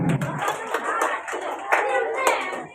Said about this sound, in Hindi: इस बच्चे के लिए जोरदार तालियां।